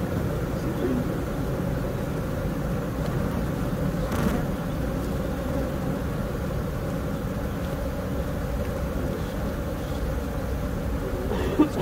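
Honeybees in an open hive with deep floors during a canola colony split, giving a steady low droning hum that runs evenly and closely throughout, with a faint tap near the middle and no talking.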